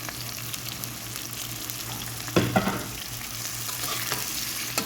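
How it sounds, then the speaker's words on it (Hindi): Onions fry for chicken pota kaleji, a steady close sizzle in the pan with occasional sharp clatters of stirring and scraping partway through; no one speaks. "ये प्याज फ्राई हो जाए।"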